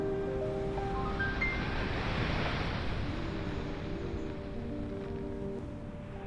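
Ocean surf on Reynisfjara black sand beach in Iceland: a broad wash of waves rolling in and surging, loud and close with wind noise, slowly easing as the water recedes.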